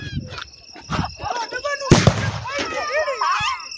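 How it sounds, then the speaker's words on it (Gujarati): A sutli bomb firecracker bursts once during Diwali celebrations, a single sharp loud blast heard near, with excited voices talking before and after it. "આપણે ફોડી રહ્યા છીએ સુતળિયો બોમ્બ"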